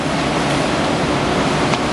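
Ocean waves break continuously at Anglet beach on a morning surf day, a dense, steady roar of surf with no voices.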